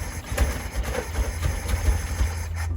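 A 1973 VW Beetle engine with a damaged engine block runs with a low, uneven chugging idle and some rattling vibration, moderately close and alone.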